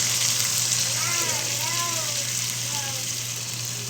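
Pure coconut milk hits a hot pan and sizzles in a steady, loud hiss that holds throughout, with a voice speaking briefly over it.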